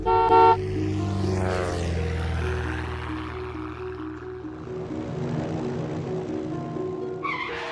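Car horns blare in a traffic jam, a loud toot right at the start followed by a long sustained honk over the rumble of engines, then the traffic noise thins before another short honk at the end, with no voices.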